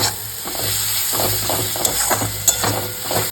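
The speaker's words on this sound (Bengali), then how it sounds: "গরম মশলার গুঁড়ো দিয়ে খুব ভালো করে কষিয়ে নিচ্ছি" A spice paste of salt, turmeric, chilli and garam masala powder for a spicy crab curry sizzles in a hot pan as it is stirred and fried, with loud hissing and repeated scraping strokes up close.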